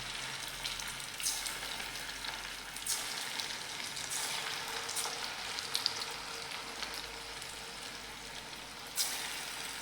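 Small fasting pakoras, a kind of bhaji fritter, fry in hot oil with a soft continuous sizzle and crackle, occasional sharper pops, quiet and close with no talk.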